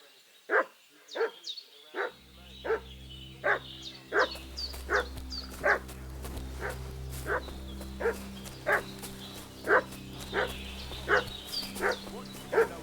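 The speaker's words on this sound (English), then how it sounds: "What's that dog making such a fuss about?" A dog barks repeatedly in the medieval village of Kingdom Come: Deliverance 2, steady evenly spaced barks at moderate distance over a low continuous ambient hum, with no talk.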